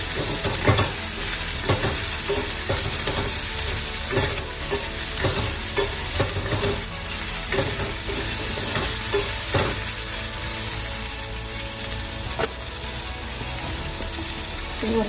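Onion and cabbage frying in a pan for a cabbage egg podimas, with a steady loud sizzle and repeated scraping, clattering stirs of a spatula against the pan, continuous and close with no voices.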